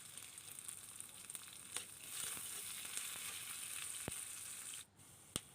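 Onions frying in oil in a pan for an Odia Amruta Bhanda santula, a steady close sizzle with occasional stirring clicks and a brief dip near the end.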